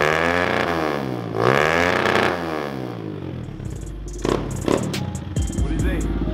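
A 2020 Kawasaki KLX 110 pit bike fitted with a Pro Circuit T6 exhaust and UNI air filter blips its throttle, rising and falling revs in two swells followed by sharper, choppy bursts, close and loud, with voices chatting around it.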